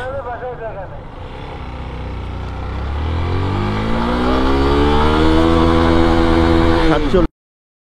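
A Yamaha FZS V2 single-disc motorcycle accelerates hard through its gears, engine note climbing steadily in pitch and loudness over several seconds before cutting off abruptly, close and loud with a voice over it.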